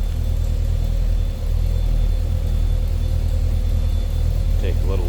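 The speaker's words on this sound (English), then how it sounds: "Nice sounding truck, nothing over the top as far as crazy exhaust, big heavy cam." A 1972 Chevrolet Cheyenne C10 pickup with a big heavy cam idles close by, a deep steady rumble with a loping pulse and a mild, not overly loud exhaust, running alone without talk.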